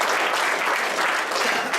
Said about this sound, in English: give her a round of applause to come